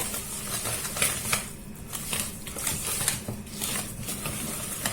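Batter with semolina and baking powder is stirred for a semolina cake, giving a steady close-up scrape and patter of a utensil against the bowl with light clinks and no talking.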